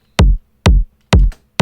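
An electronic kick drum in a music production thumps four times in a steady rhythm, each hit punchy, deep and booming with a short decay, alone and close.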